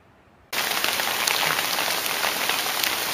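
Heavy thunderstorm rain mixed with hail suddenly starts drumming on a surface at a mountain horse camp after a quiet moment, a dense, loud, continuous patter with sharper hits mixed in.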